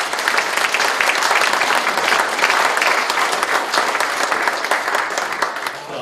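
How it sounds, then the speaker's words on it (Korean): A crowd at the inauguration ceremony of the new central chairman of the Korea Retired Police Officers Association gives the chairman a loud, dense, continuous round of applause that fades slightly at the end. "우리 강영규 회장님께 다시 한번 박수 보내드립니다"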